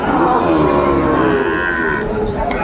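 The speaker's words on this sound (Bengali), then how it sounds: "এই দেখেন গির বাচ্চা।" A Gir breed calf moos close and loud, one sustained, drawn-out bellow that fills the moment with no talk over it.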